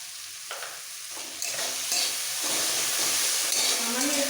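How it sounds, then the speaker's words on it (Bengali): Spice paste of cumin and coriander for a Bombay duck fish curry sizzles in a pan, faint at first and then swelling into a loud steady hiss under repeated spatula scrapes and clinks. "জল দিয়ে মশলাটা ভালো করে কষিয়ে নেব"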